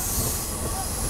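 A KiHa 47 diesel local train runs with its doors wide open, letting in steady loud wheel and track rumble with a faint squeal, heard from inside the car.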